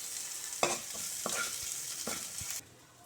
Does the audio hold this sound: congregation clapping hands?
no